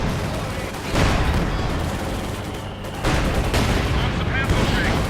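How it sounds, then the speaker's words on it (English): Artillery and gunfire from a field gun and an H-35 tank in the World War II strategy game Company of Heroes 2, a dense, continuous barrage of booms and crackling shots with two louder surges. "getting bombarded there by the H-35 and a field gun"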